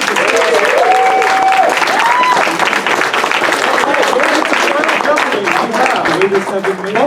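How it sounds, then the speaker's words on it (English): A convention audience at a live quiz game bursts into a loud round of applause, continuous dense clapping close and full for the whole stretch, with a voice talking over it early on. "let's give a round of applause"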